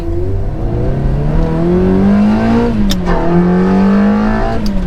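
A manual Ferrari 360 sports car engine revs loud and close, its pitch climbing smoothly through the gears, dipping briefly at a shift, then rising again.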